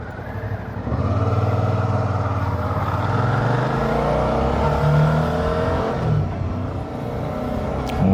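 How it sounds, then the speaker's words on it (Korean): A Suzuki V-Strom 650XT motorcycle engine drones through earplugs, a steady low hum that swells as it pulls away after the first second and holds fairly loud and even, with a slight dip near the end. "엔진 소리만 오히려 더 좀 부각되는 그런 느낌이랄까?"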